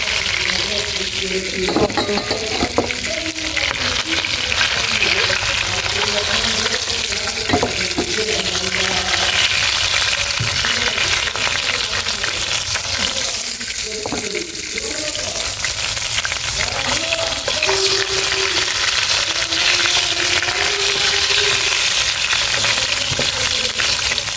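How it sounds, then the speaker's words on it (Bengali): Chicken frying in a pan, a continuous loud hiss and sizzle running the whole length, with bursts of voices and clattering kitchen activity mixed in. "এই পাশে হচ্ছে চিকেন ভাজতেছি"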